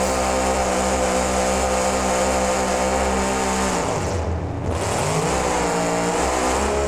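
A monster truck engine in BeamNG roars steadily while doing reverse donuts in a stadium, a loud continuous drone that dips and swoops in pitch partway through before resuming, no voices.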